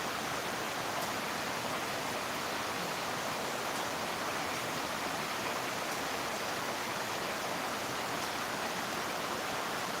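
Steady heavy rain falling over Guwahati, heard from a second-floor balcony as a loud, continuous wash of hissing water with faint scattered drips and no talking.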